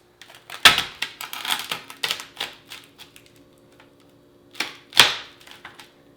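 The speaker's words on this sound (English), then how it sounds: "Once the peppermint bark has set and chilled, it's time to break it apart." A knife cracks chilled homemade peppermint bark into pieces on parchment paper, giving a quick run of sharp snaps and taps, then a pause before two more crisp cracks.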